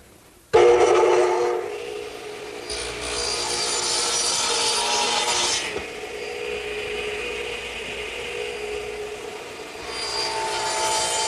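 A radial arm saw cuts wooden siding boards for a dove cote. The motor spins up sharply, then a loud sustained whine shifts in pitch as the blade passes through the wood, with a brief lull before a second cutting surge. No one talks.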